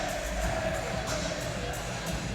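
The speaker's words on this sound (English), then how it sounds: "Good crowd on hand" A crowd at a college basketball game between Memphis and Tulsa cheers and roars steadily throughout at moderate volume, with no clear individual voices standing out.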